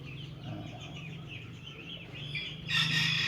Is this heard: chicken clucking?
yes